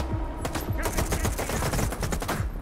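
Rapid bursts of gunfire from the video game STALKER 2 Heart of Chornobyl, overlapping automatic and single shots crackling loudly and continuously in a dense, chaotic firefight.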